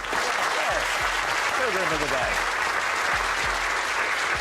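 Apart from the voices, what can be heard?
studio audience clapping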